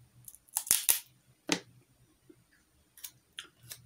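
Adhesive tape is pulled and cut for makeup application, heard as a few sharp, close crackling tears and snips spaced irregularly across a quiet room.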